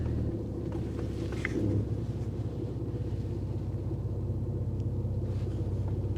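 Inside a Mitsubishi Diamante on a drive, a low, steady engine and road rumble drones on, with a brief clunk early on and no voices.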